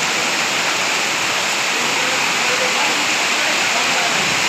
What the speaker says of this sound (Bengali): কঠিন পরিমাণ বৃষ্টি আসছে